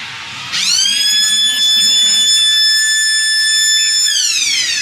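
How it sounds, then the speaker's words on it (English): A long, steady stadium half-time siren blares with a bright, piercing tone, sustained for several seconds over faint crowd noise before tailing off, at a Widnes versus St Helens rugby league match. "as you can hear in the background, is the half-time siren"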